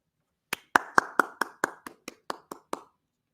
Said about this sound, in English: Joe Bolton gets a clap for that one.